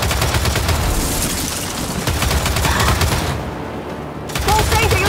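Dense, rapid gunfire in the video game Gears 5 rattles almost continuously in bursts, close and loud, with a brief lull before the shooting resumes.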